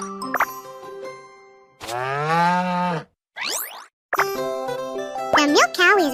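A cartoon milk cow on a farm in the Baby Panda Farm children's game moos loudly in a long drawn-out call, set among playful jingles, plops and game music effects.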